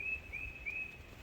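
Birds chirp outdoors near a sawmill among cleared, chopped-up briars, a few thin high calls repeating faintly over quiet background hiss.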